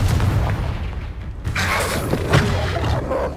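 Confringo blasting spells burst in Hogwarts Legacy, heavy booming impacts with a crackling roar, one big blast near the middle followed by a few more rumbling hits, all loud and close.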